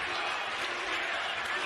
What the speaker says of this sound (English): Listen to the crowd, Riccaboni.